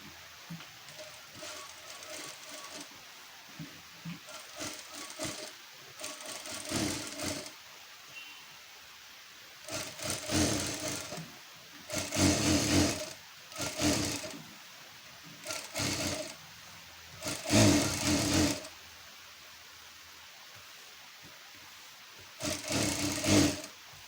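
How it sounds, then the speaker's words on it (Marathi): A sewing machine stitching the side seam of a lining, running in about ten short bursts of rapid mechanical whirring separated by brief quiet pauses. "आता आपण साईडनं टिपा मारून घेऊयात जे अस्तरचं आहे ते"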